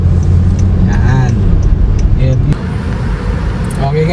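Steady, loud road noise from a car on a congested provincial highway between Naga and Legazpi in the Philippines, a continuous rumble with engine hum and passing vehicles, and voices talking over it.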